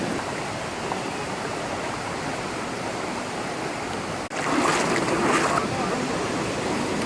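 A waterfall and stream at Ilhabela, Brazil, heard up close as a continuous rushing roar of falling water that breaks off briefly partway through, then resumes slightly louder.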